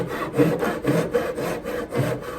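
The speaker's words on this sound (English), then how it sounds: "So I'm going to use our trusty hand saw." A hand saw cuts through roof plywood trim in steady back-and-forth strokes, about seven rhythmic rasping pulls, close and clear with no talking.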